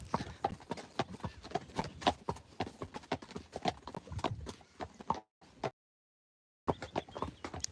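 The hooves of a Friesian horse clop in a steady walking rhythm, each step distinct and fairly close. The footfalls break off briefly into silence, then resume.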